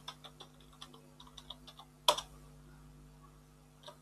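Someone types a password on a computer keyboard, a quick run of light, close key clicks followed by one firmer press and a few scattered taps against a faint steady hum.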